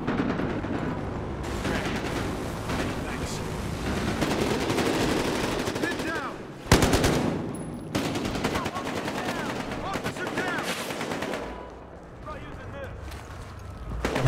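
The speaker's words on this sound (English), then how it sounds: "Look at that machine gun on top of that truck." A truck-mounted machine gun fires in Battlefield Hardline heist gameplay: loud sustained automatic bursts with a sharp blast midway, continuing in long strings before easing, as a voice talks over the action.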